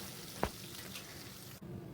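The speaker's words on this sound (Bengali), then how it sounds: "মাছের এক পিঠটা ভাজা হয়ে গেছে এবার উল্টে দেবো উল্টে আর একটু ভেজে নেব" Pabda fish frying in hot oil as it is flipped in the pan, a quiet steady sizzle with a sharp clatter near the start, then a brief dip before the sizzling resumes.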